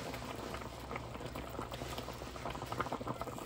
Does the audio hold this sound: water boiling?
yes